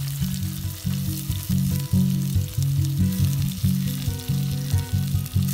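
Chopped onion and garlic frying in oil for a spicy crab roast give a loud, steady sizzle with rhythmic surges and a low droning tone underneath.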